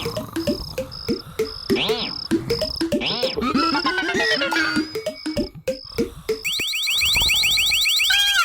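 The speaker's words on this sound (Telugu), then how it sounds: "ఇప్పుడు ఎవరు ఈ పెట్టెను ముట్టుకున్నా ఈ అలారం మోగుతుంది." In a Motu Patlu 3D animated cartoon, a mix of bouncy cartoon sound effects and beeps leads into a box's electronic alarm ringing loudly and continuously.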